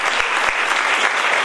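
An audience at a theatre festival awards ceremony claps for the director, a short burst of full, even applause heard close and loud with no voices over it.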